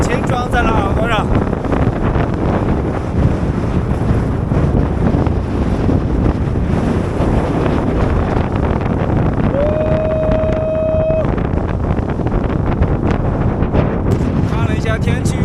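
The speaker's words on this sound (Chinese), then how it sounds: "这呼啸的风鸣声，感觉把喷气式战斗机的引擎装在了耳朵上" Strong, howling wind on the Qiangtang plateau during a cycling ride, with force-9 gusts carrying sand. A loud, continuous roar buffets the microphone throughout, with a brief whistling tone partway through.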